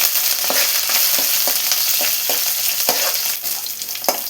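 Shallots, garlic and curry leaves fry in hot oil in a pan, giving a loud, steady close-up sizzle broken by periodic scraping stirs.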